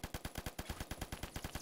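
Rapid, evenly spaced bursts of M60 light machine gun fire in the Phantom Forces shooter game, a steady close and loud automatic stream with no talk over it.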